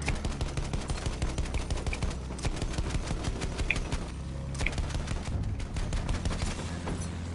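Rapid machine-gun fire is aimed at a bomber in a video game, with close, sustained bursts of sharp shots rattling almost without pause.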